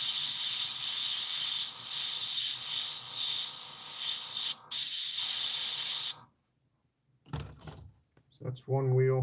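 Airbrush spraying paint onto a P-51 cockpit model part gives a steady, close hiss for about six seconds, cutting out briefly once, then stopping before a voice speaks.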